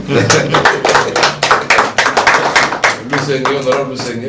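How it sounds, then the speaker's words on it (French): A small group claps at a political party gathering welcoming a new member, the claps distinct and rhythmic, close by, with voices talking over them. "On peut l'applaudir."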